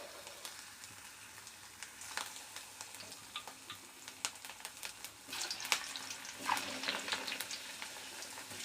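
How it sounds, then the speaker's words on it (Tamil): Potato chips frying in hot cooking oil, a quiet continuous bubbling sizzle that grows busier toward the end, with light crackles and no talk. "சூடு பண்ணிட்டு நம்ம போட்டு பொரிச்சு எடுத்துடலாம்"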